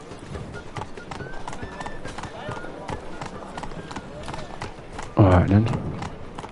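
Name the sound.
horse Roach galloping in The Witcher 3 video game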